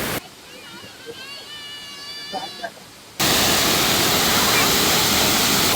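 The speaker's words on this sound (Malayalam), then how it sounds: "ഇതാണ് നമ്മുടെ വെള്ളച്ചാട്ടം." A waterfall on the road to Munnar, Kerala, bursts in as a loud, steady, hissing roar after a quieter opening stretch where a voice is heard; the rushing water then fills the rest of the clip.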